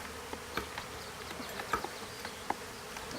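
Honey bees buzz in an opened one-month-old hive during an inspection, a faint steady hum with brief louder passes of individual bees close by.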